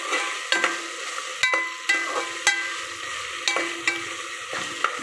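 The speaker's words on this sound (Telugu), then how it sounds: "ఒకసేపు వేయించాలి ఆయిల్లో." Ginger garlic paste frying in hot oil for a tomato and drumstick curry, a steady sizzle punctuated by sharp, regular spoon scrapes against the pan, close and with no voices.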